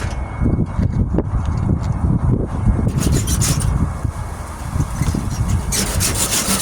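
Rough, rhythmic abrasive scraping on a weld along a 1998 Ford Ranger tailgate, a steady back-and-forth grinding rasp, close and continuous throughout.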